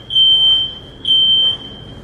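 A smoke alarm gives two long, loud electronic beeps, each lasting about half a second, with a short gap between them and no talking.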